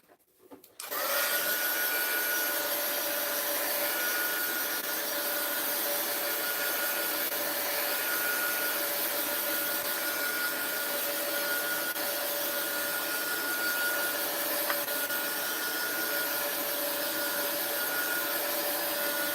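A heat gun drying a watercolor art journal page runs as a loud, steady blowing whoosh, switching on about a second in and holding unbroken and close for the rest of the clip.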